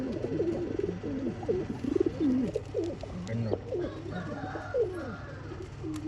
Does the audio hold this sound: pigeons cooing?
yes